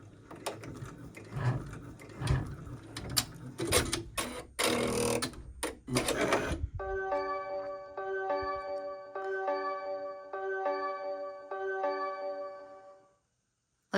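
An embroidery machine stitches the next thread color in the hoop with fast, busy mechanical clatter close by, then settles into a steady repeating whirring hum before stopping.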